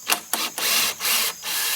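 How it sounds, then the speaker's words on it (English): Screws are loosened by hand on a chainsaw mill attachment while milling a cedar log, giving close, repeated scraping and rubbing strokes in a rhythmic back-and-forth pattern, with brief gaps between turns. "Now I'll loosen these screws."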